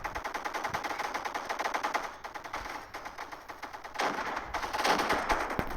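Rapid automatic gunfire in the Roblox game, a fast rattling burst that pauses briefly, then resumes louder in steady repeated volleys.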